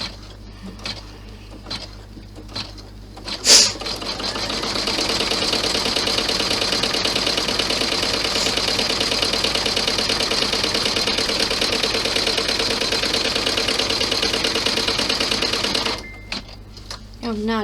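A sewing machine stitches a large clutch bag in one long continuous run of rapid, steady whirring, with brief quiet spells before and after and a voice speaking near the start and end.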